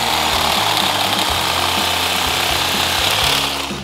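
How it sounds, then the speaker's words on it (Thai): An electric reciprocating saw cuts through tree branches, its loud rapid buzzing motor pulsing in steady repeated strokes from start to finish, close and alone. "เราค่อยเอาเลื่อยประเภทอื่นนะครับใช้เลื่อยชักไฟฟ้าแบบนี้ก็ได"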